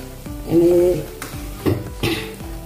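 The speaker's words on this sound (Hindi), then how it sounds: "ऐसे पलट पलट के इसको तलना है" Layered namkeen snack sizzling steadily as it fries in hot oil, with stirring and turning scrapes in the pan, loudest near the start and middle, and no talk.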